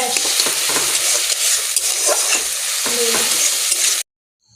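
Small chopped chicken pieces for momo filling are stir-fried in a pan, giving a loud steady sizzle with repeated spatula scraping, then the sound stops suddenly into silence.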